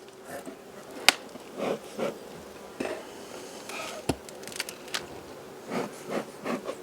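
Honeybees droning around an opened hive, a soft persistent buzz punctuated by scattered knocks and rubbing sounds of handling nearby.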